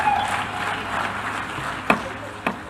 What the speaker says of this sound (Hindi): बाइकॉट पर ऐवान तालियों से गूंज उठा।